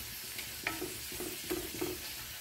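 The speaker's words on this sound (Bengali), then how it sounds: "পনিরের পরোটা ঘি দিয়ে ভাজলে খুব ভালো লাগে" Paneer paratha frying in ghee on a pan, a faint steady sizzle with a few soft scraping and turning sounds.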